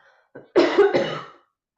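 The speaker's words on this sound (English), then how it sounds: "sorry, I'm going to cough" A close, loud cough, a quick double hack that trails off, with near silence around it.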